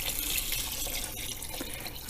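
Water poured into a clay pot of soup broth, a steady close rush of liquid filling the vessel, continuous and fairly loud throughout.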